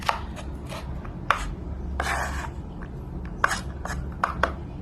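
A knife chopping washed carrots into long thin strips on a cutting board, sharp irregular thunks at close range with brief pauses between cuts and no talking.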